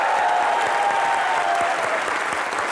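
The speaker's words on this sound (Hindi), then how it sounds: "जोरदार तालियां बनती हैं।" A studio audience at a televised comedy show claps loudly and continuously, a dense, even wash of applause from start to finish with faint crowd murmur underneath.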